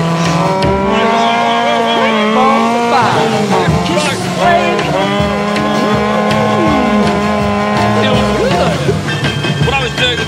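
A Vanwall racing car understeers toward the edge of the road, its engine roaring steadily and sweeping up and down in pitch while the tyres squeal, loud and close throughout.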